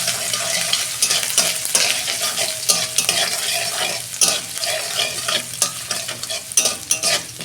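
Grated ginger drops into hot oil already frying whole cumin seeds and bay leaves, for a papaya curry; a busy sizzle runs throughout with scraping, clattering stirring strokes close by.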